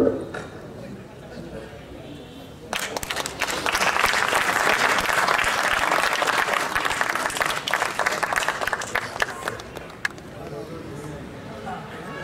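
An audience at a foundation day ceremony in a hall breaks into sustained applause, rising suddenly and holding for several seconds before tapering off, with a speaker's voice audible over the clapping.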